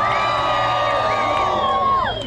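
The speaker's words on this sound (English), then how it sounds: "the crowd goes nuts." A luau crowd erupts in loud, continuous cheering, with whoops and yells rising over a dense roar that swells slightly toward the end.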